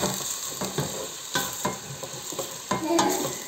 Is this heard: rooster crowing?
no